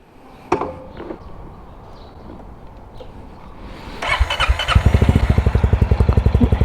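A Honda CBR1000RR sport motorcycle cranks and fires up close by, settling into a loud, rapid, rhythmic idle after a few quiet clicks and shuffling sounds.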